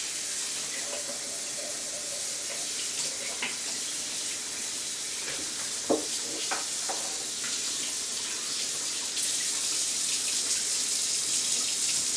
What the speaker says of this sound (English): I like to rinse the turkey off.